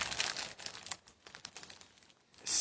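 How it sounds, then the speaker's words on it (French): A packaged bag of herbal tea being opened and unwrapped, a close, quiet run of plastic crinkling and rustling with a louder crackle at the end. "Dans ce sac que j'ouvre"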